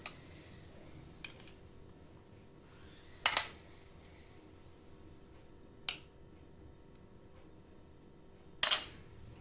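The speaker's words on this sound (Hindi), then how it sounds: "अब हम एक एक लेके इसमें डालेंगे फिलिंग।" A spoon clicks sharply against a bowl four or five times at spaced intervals while filling goes into momo wrappers, each tap close and crisp over a quiet kitchen background.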